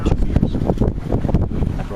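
Steady wind roars and buffets across the microphone aboard a yacht under sail, with rushing water beneath and continuous without a break.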